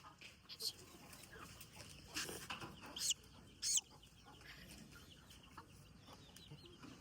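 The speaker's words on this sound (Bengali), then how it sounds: "ওইখান থেকে মুরগি এখানে এসে পড়ছে আর ওতে বাচ্চা ধরে ফেলছে" Native country chickens on a small farm, with several close clucks and short squawks in brief bursts over a quiet background, while people speak softly nearby.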